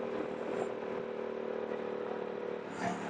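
Yamaha R7 motorcycle with a full exhaust and the baffle removed, its engine held at a steady, loud, rough drone close by, with a sharper rev surge near the end.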